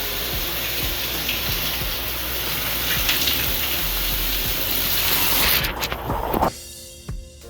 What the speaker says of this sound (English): you can put it under cold water